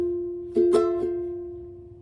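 On a ukulele, three quick down-up strums ring out unmuted, and the chord sustains and slowly fades over the remaining second and more.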